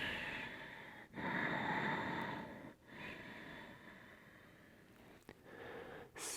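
Slow, audible breaths during a yoga forward fold: long, soft inhales and exhales through the nose, close but quiet, with brief pauses and a light sniff-like catch between them.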